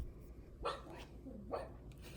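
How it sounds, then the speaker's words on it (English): A dog barks twice, about a second apart, from outdoors through an open screen door, moderately loud in a quiet room with faint background hiss. "Sorry if you can hear my dog."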